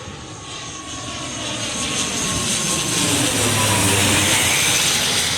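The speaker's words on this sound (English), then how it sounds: "we've actually got a plane landing. This one here, Aer Lingus ATR 72." An Aer Lingus ATR 72 turboprop airliner comes in to land, its engine roar loud and steady, building slightly as it draws nearer.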